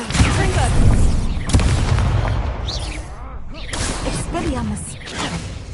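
A Confringo spell blast in Hogwarts Legacy erupts with a loud boom and whoosh early on, followed by further crackling impacts and swishes during a fast combat exchange, with a voice calling out amid the action.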